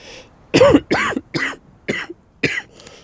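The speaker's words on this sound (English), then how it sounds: "sorry about the coughing" Five or six sharp coughs, close and loud, spaced in a quick, uneven series with brief pauses between.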